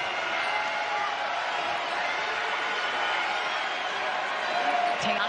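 A women's college basketball crowd at Colorado, in a Pac-12 home game against Stanford, roars in a steady, dense wave of cheering that fills the arena for several seconds, with a commentator's voice running beneath it.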